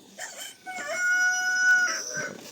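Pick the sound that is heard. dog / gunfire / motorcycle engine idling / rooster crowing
rooster crowing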